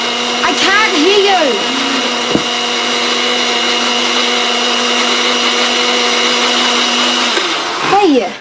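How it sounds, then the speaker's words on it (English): A kitchen blender whirs loudly and steadily while making a smoothie, running continuously close by as voices talk over its drone. "Turn the blender off."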